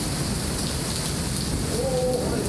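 Steady heavy rain with rumbling thunder during a night storm, a dense, continuous hiss that stays loud and even throughout with no voices.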